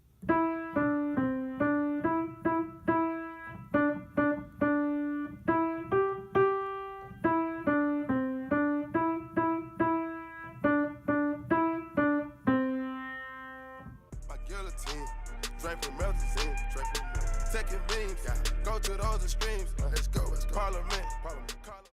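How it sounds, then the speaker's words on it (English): A keyboard plays a bright, steady single-note right-hand melody in even rhythm, then the clip shifts into a denser full arrangement with heavy low bass and percussion. "Now I'm going to play the whole melody for you."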